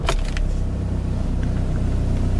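A 2014 Škoda Octavia VRS starts with a short crank burst, then fires up and settles into a steady low idle rumble, close and alone without talk.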